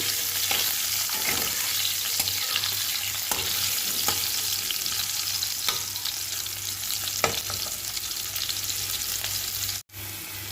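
Potatoes frying in a pan with black cumin seeds make a dense, steady sizzle, punctuated by regular clicks of a spatula stirring against the pan, close and loud throughout.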